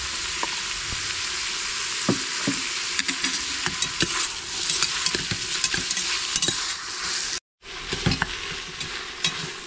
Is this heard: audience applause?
no